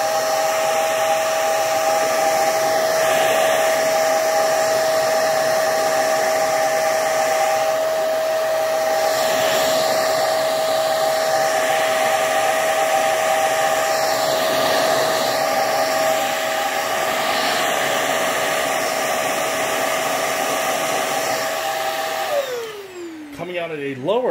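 A Hoover High Performance Swivel vacuum cleaner with a dirty filter runs with a loud, steady motor whine and airflow roar for over twenty seconds, then is switched off and winds down with a falling pitch.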